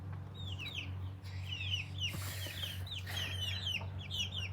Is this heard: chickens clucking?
yes